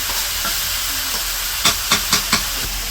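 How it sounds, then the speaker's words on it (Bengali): Vegetables stir-fried with spices in a pan in a village kitchen hiss and sizzle steadily, then a spatula scrapes through them in four quick, evenly spaced strokes near the end. "এখন মশলা দিয়ে সবজি কষিয়ে নিতেছে"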